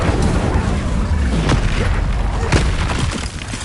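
Incendio fire spell in Hogwarts Legacy erupting as a loud, close rumbling blast with heavy low-end roar, a couple of sharp cracks inside the sustained burst, fading slightly at the end.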